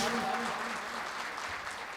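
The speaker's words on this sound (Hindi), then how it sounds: "एक मरतबा तालियां बजा दीजिए" An audience at a mushaira poetry gathering in Amravati, Maharashtra, applauds a poet with dense, sustained clapping that fills the whole moment, along with faint crowd murmur.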